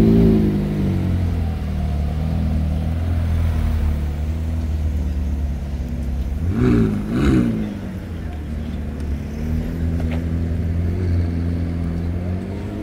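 A purple McLaren LT sports car pulls out of a parking lot in Cannes, its engine rumbling nearby with a brief rise in revs midway, while someone talks over it.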